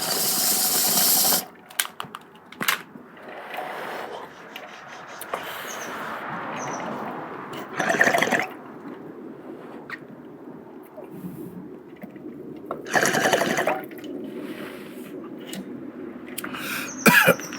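A bong hit with muffled gurgling bubbles, followed by several harsh bursts of coughing and throat clearing at close range, separated by quieter stretches.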